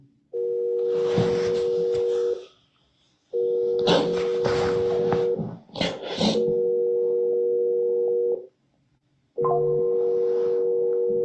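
A telephone ringback tone heard while a call is placed, long steady tones repeating with short gaps, loud and close, with people talking over parts of it.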